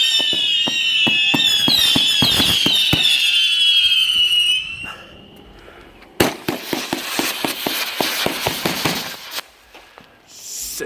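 An M1000 100-shot tight salute firework cake fires a rapid barrage of sharp, loud bangs in quick succession after a stretch of shrill whistling launches and a brief lull, heard outdoors without talk.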